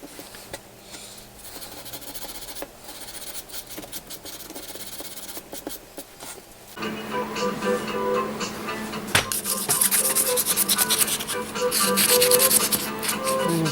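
Sanding clear coat off a Suzuki GSX1400 motorcycle part produces close, rasping rubbing strokes, quiet and scratchy at first, then growing louder and brighter partway through with irregular back-and-forth friction.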